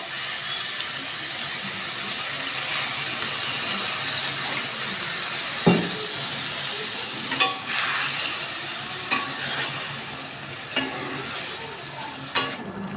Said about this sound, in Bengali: এবার দিচ্ছি আমি অল্প একটু জল